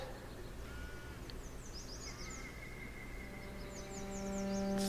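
Several crows caw in quick clustered calls against a steady nighttime ambience of chirping crickets and insects in the Foundation video game, the birds sounding moderately distant, with a tonal drone swelling near the end.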